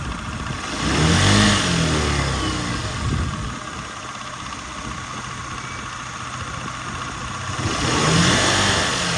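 A 2018 fuel-injected Honda Tact AF79 scooter from Japan runs steadily nearby, its small engine idling with a buzzing drone and two mild revving swells, one near the start and one near the end.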